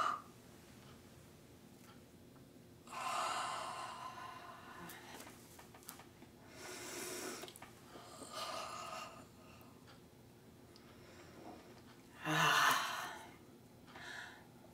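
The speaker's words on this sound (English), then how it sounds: "real yawns. So three in succession at least, and really slow stretch of the body" A person does several slow, deliberate yawns in a row during a relaxation exercise for stress management. Each is a drawn-out breathy exhale, with about three or four soft, spaced swells over a quiet background.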